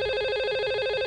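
A telephone rings inside the video game Geared, a steady electronic trilling tone that repeats rapidly and sounds loud and close, with no other sounds around it.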